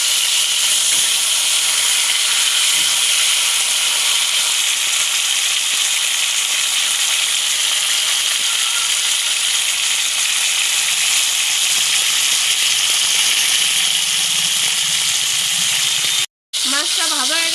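Tangra fish frying in oil gives a loud, continuous hiss and sizzle that holds steady for many seconds. A brief cut comes near the end, followed by a faint voice-like sound.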